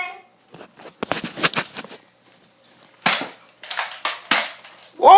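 A Nerf blaster firing foam darts during an indoor Nerf war, several sharp snapping pops in clustered bursts, loud and close, with short pauses between volleys.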